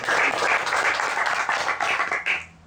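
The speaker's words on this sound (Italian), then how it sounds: "Quindi un altro applauso ancora." An audience at a book-festival cultural event applauds steadily, a dense wash of clapping that holds for over two seconds before tapering off near the end.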